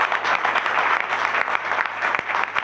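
Loud, dense applause from an audience at a business recognition and closing event in a hotel hall, many hands clapping steadily without a break.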